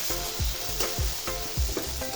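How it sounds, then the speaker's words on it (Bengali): Cubes of pangas fish fry in hot oil with a dense, close sizzle, broken by a regular series of soft low knocks and scrapes about every quarter second as the pieces are moved. No talking. "এখন আমি পাঙ্গাস মাছের কিউবগুলো দিয়ে দিব, একটু সাবধানে দিতে হবে"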